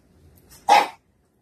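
A dog gives a low, grumbly rumble and then a single short, sharp bark nearby.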